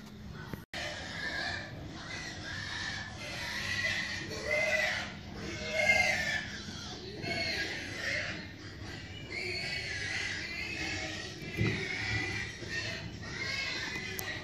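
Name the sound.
pigs grunting at feeding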